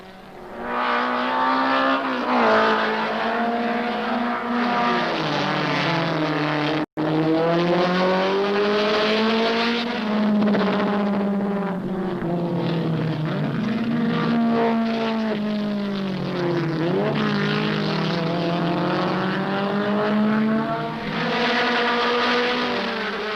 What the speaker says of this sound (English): the season-long rivals thrashed away from Don Pike's third-place BMW and hooked up in a dice